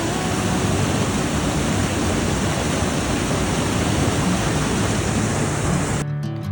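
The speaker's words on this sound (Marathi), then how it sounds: "लिंगमळा धबधब्याचा आवाज एवढा भारी वाटतोय की तिथे स्पष्ट ऐकू येतोय कसं पाणी खाली पडतंय पूर्ण" Steady, loud roar of Lingmala waterfall in Mahabaleshwar crashing down in the rain, a dense continuous rush that fills the whole scene without pause.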